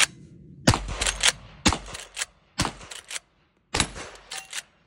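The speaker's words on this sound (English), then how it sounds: "The first three shots are 38 Special, then the next three shots are 357 Magnum." A Henry X Model lever-action rifle in .357 fires 38 Special and 357 Magnum rounds, with four sharp, loud reports spaced about a second apart, each followed by brief mechanical clatter from working the lever.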